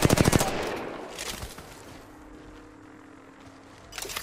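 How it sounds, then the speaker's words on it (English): A quick burst of rapid automatic gunfire in the Apex Legends video game opens the stretch, followed by a quieter lull with faint game sounds and another short burst at the end. "I'm just gonna shoot the team here."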